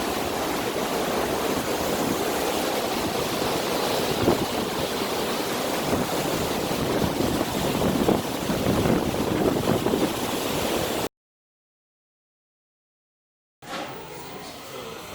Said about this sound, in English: That's our wake from even down the back there.